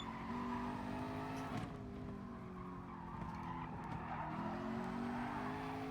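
A race car drifts in Gran Turismo Sport during a daytime FIA warm-up. A steady, loud engine drone runs under long tire squeals, and the pitch dips and shifts as the car slides, with no talking.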